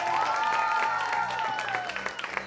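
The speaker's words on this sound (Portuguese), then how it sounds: "Vamos aplaudir mais uma vez aqui o casal." A television studio audience claps for a couple, steady close applause with a sustained musical tone underneath that fades toward the end as the clapping thins.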